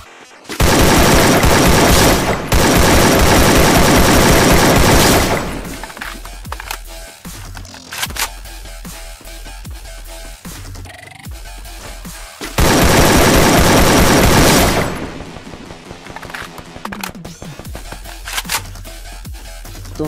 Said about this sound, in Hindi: जब मैं इस आगे वाले बंदे को मारने के लिए जा रहा होता हूँ तो पीछे से मेरे पास वो फायरिंग करता है